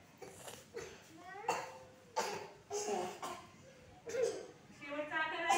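A child coughs several times in short bursts, with voices speaking between and around the coughs.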